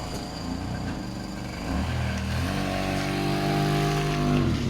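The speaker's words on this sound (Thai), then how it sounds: "อ่ะพี่ป้อมขับขึ้นหน้าเลยครับ" A Nissan Sunny B14 with an automatic gearbox pulls forward after reversing. Its engine hums steadily, then swells a little louder and deeper as the car moves off, with no voices over it.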